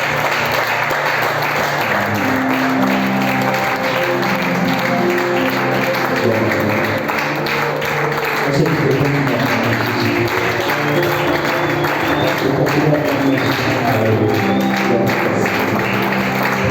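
Sustained audience applause at a church service, dense and continuous throughout, with crowd noise and a few voices mixed in.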